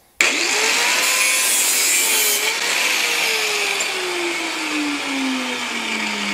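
A steel golf wedge shaft being cut to length with a power cutter: a loud, continuous high whine and grinding buzz that starts abruptly and holds for several seconds, its pitch slowly sliding downward as the blade bites.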